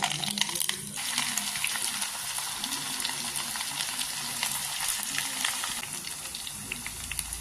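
Mustard seeds and curry leaves fry in hot oil for a nutmeg pickle, with a steady close sizzle and scattered crackling pops throughout.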